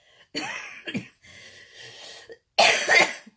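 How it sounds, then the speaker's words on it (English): A few harsh, close coughs from a foggy, congested throat, with a rougher throat-clearing in between and a final loud burst of coughing. "That foggy cough"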